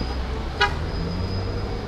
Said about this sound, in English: I'm not sure if he honked at me or someone else